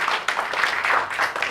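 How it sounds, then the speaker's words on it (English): Audience applauding Fiona Anson, dense continuous clapping from a crowd, fairly close and steady for the whole short stretch. "can you please give Fiona Anson a huge round of applause and stand on your feet"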